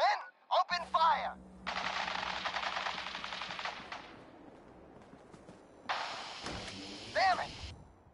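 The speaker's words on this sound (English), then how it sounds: "Stop or we'll shoot! Men! Open fire!" Automatic gunfire in the video game Fallout 4, two long sustained bursts of rapid shots with a pause between, mixed with shouted voices at the start and near the end.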